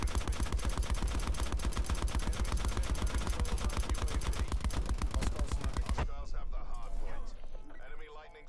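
Rapid automatic gunfire rattles loud and steady in a Call of Duty Black Ops 4 multiplayer match, a dense burst running for about six seconds before breaking off into scattered game effects and softer noise.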